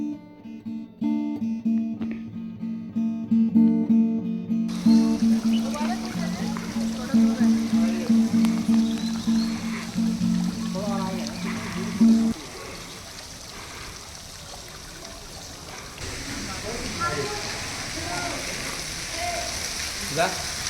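Garden fountains at Saheliyon Ki Bari in Udaipur spray water in a steady, hissing rain-like patter that runs continuously, with a tonal hum over the first half and faint voices in the background.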